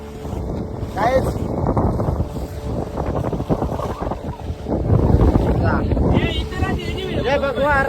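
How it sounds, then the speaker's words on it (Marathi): A boat sets off across the sea near Malvan's Devbag beach, its engine rumbling under heavy wind buffeting the microphone while voices talk throughout. "अशा प्रकारे आमची बोट निघालेली आहे."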